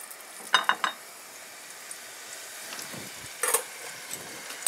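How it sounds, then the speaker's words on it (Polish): Carnival rose pastries dropped into hot frying fat give a steady low sizzle, with a few sharper spatters and clinks near the start and again midway, fairly close and with no talk. "Tłuszcz jest już gorący. Wrzucam róże małym kołem do dołu."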